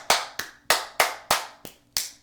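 Hands clap seven times at a steady, slightly uneven pace, each clap sharp and close with a short room echo and no talking.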